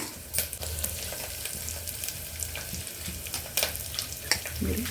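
Onions frying in hot oil for a tempering, meant for a sprouted horse gram curry, give a close, steady sizzle with scattered crackles and a few sharp clinks of stirring, with no talking.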